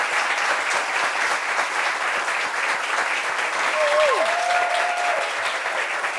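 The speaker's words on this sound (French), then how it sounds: "Applaudissements pour lui, s'il vous plaît." A crowd applauds steadily and loudly throughout, dense clapping with a faint whistle rising near the end.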